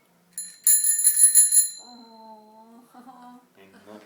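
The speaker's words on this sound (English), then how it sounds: "Show him his bell." A child's bicycle bell gives one bright burst of rapid ringing on Christmas morning, then fades as people talk nearby.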